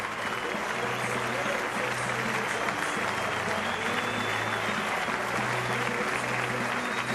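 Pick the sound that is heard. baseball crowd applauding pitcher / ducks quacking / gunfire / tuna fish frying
baseball crowd applauding pitcher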